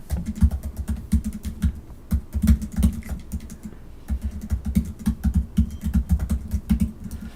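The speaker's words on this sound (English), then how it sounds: "I'm typing it right now, so hold on." Rapid bursts of typing on a computer keyboard, close and fairly loud, with dense clattering keystrokes in uneven runs and a brief pause midway, no talking.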